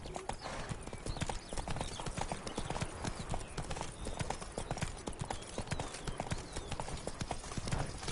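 A horse gallops in The Witcher 3 video game, its hooves clip-clopping in a rapid, steady rhythm that sounds loud and close and runs continuously for several seconds, with no voices over it.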